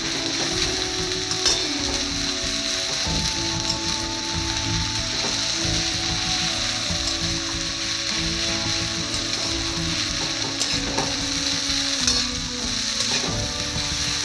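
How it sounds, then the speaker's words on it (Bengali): Garlic paste, about three tablespoons, frying in a pan for chicken sundori, a loud continuous close sizzle with occasional clinks and stirring noises, no talk. "এবারে আমি রসুন, ওই 3 টেবিল চামচ রসুন বাটা অ্যাড করলাম।"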